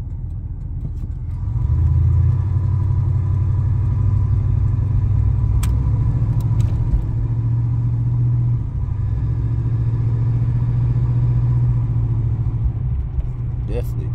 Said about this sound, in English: Definitely tell the difference. The new air breather on there.